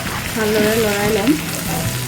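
Tomato and onion, added over whole cumin seeds, fry loudly in a pan as they are stirred. A dense, close sizzle carries a faint wavering tonal whine. No voices.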